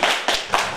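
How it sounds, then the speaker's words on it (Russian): A concert audience in a village applauds in a few quick bursts of clapping, close and lively, with no talking. "давайте его встретим аплодисментами"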